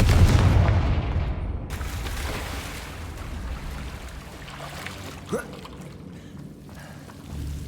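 A Confringo fire spell blasts in Hogwarts Legacy, a heavy booming burst that fades into a rumbling, crackling tail, with a sharper crack partway through.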